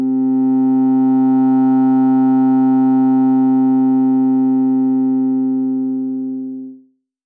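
A Vult BoomStick low-pass filter synth module sustains a single steady, clean, harmonic-rich tone for about seven seconds, loud and unchanging, before cutting off abruptly.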